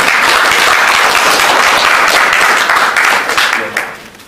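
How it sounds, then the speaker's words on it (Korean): Loud, dense applause from an assembly at a general meeting greeting a Unified Progressive Party candidate from Jongno, steady and close, then fading out over the last second. "큰 박수로 맞이해주시기 바랍니다"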